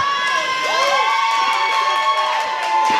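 Crowd at an AWF High Voltage pro wrestling show in Phoenix, Arizona, cheering and whooping loudly and steadily throughout, with high shouts and whistles rising above the roar.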